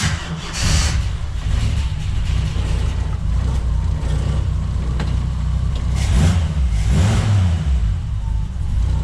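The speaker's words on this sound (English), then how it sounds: "So let's crank her up and see how easy it is to crank." Engine of a 1980 Jeep CJ5 fitted with Holley Sniper fuel injection, running with a steady, loud, close low rumble throughout, with no pauses.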